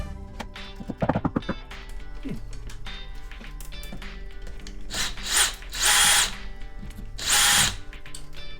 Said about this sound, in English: And then what we'll do is we'll screw them in.